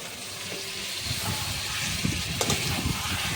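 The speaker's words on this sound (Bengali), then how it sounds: "মটনটাও আমি 3-4 মিনিট মতো ভালো করে কষিয়ে নেব" Boiled mutton sizzling and hissing steadily in hot oil as it is sautéed for biryani, a continuous close frying hiss with faint stirring scrapes.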